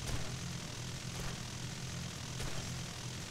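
A propeller plane engine drones steadily in the video game War Thunder, giving a continuous loud, rough hum with no pauses.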